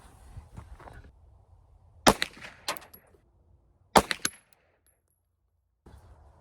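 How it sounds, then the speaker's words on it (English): A CZ 9mm pistol fires at a range during load development: two separate clusters of about three sharp, loud, close shots, with quiet pauses between them. "So I'm gonna do the CZ first, the Taurus TH9, the Taurus G2, CZ3 or the SIG 320"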